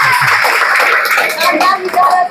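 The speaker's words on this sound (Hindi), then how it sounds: "ताली बजा दो भाई इस बात पर।" Students in a biology classroom clap together, producing a dense, continuous patter of hand claps that fills the room, with voices mixed in.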